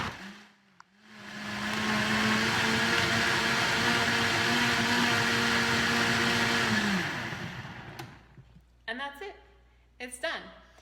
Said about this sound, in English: And blend it up, and it just takes a minute to blend.